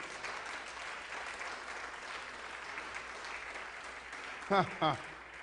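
Applause at a live church teaching session, a faint, steady patter of clapping from a congregation, followed by a couple of short spoken bursts near the end.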